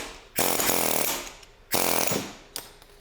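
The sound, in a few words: air chisel knocking off Land Rover Freelander propshaft bearing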